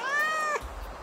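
A cat meows in Goat Simulator, one drawn-out, wavering cry lasting about half a second, loud and close, then cutting off to low background rumble.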